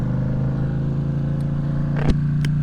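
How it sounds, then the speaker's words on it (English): A Ducati Streetfighter V2 with full exhaust and a tune runs on a dyno, its steady loud engine drone broken by a sharp deceleration pop and a couple of fainter crackles. "I didn't realize it was throwing fireballs every time it had that deceleration pop"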